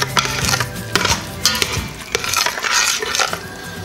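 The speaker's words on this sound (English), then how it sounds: "Give that a stir." Soup ingredients with Italian seasoning being stirred in an Instant Pot, producing close, loud scraping and clattering of a utensil against the metal insert in uneven bursts.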